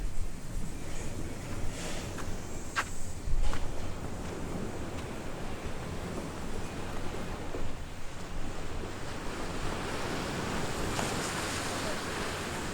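Surf washing onto an island beach at West Lagoon, a steady broad rush of waves with some wind buffeting the microphone, no voices.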